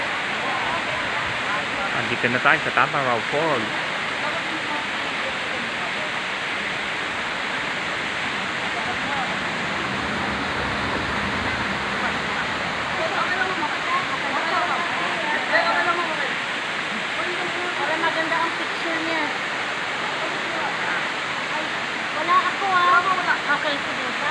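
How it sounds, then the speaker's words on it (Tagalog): Tama Falls, beside a highway during a drought, pours a steady, broad rush of water throughout, with voices talking over the roar. "malakas yung pagaspas ng tubig"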